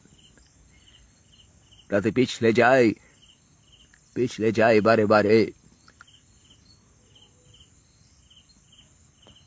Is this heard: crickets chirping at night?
yes